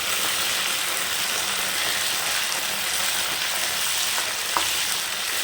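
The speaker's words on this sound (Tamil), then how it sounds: "இந்த எண்ணெயிலே நல்லா வதங்கி இருக்கும்." Brinjals sauté in plenty of oil for Tamil ennai kathirikai kulambu, producing a constant close sizzling hiss with one faint tap near the end.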